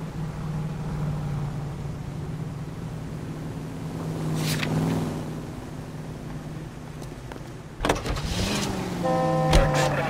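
A car in L.A. Noire drives steadily with a low engine drone and road rumble, then a brief whoosh and a mechanical shift near the end as the engine tone rises.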